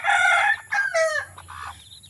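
A rooster lets out a loud, close crow broken into several rising and falling phrases, followed by softer clucks from nearby chickens.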